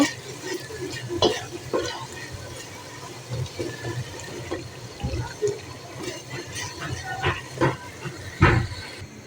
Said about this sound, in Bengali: মশলাটা কষানো হয়ে গেছে এখন মাংস দিয়ে দেব